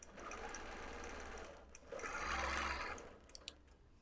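A quilting machine stitches in a fast, even mechanical whir that rises louder in the middle, then stops and is followed by a few small clicks.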